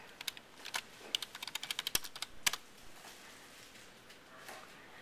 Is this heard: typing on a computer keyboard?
yes